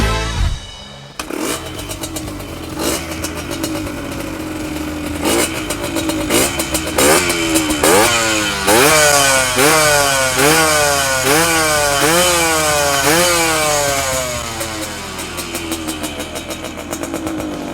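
A Yamaha DT125 Mono motorcycle engine cranks and catches, then idles and revs repeatedly in rising and falling surges, loud and close, with a rough old-style exhaust note.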